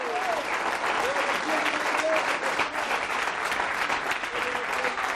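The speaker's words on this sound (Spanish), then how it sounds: "¿Cuántos le dan un aplauso de alabanza," A church congregation claps in praise during a sermon, a sustained wash of many hands applauding steadily with voices calling out over the clapping.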